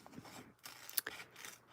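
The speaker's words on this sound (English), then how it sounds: "I just poke a little hole and then get my scissors going." Scissors cut paper in a crafting session, a few close, crisp snips and soft paper rustles, with one sharp click near the middle.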